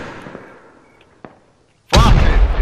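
Blank-firing rifles crack at a reenactment event, one short distant shot followed after a pause by a loud, close blast with a lingering rumble.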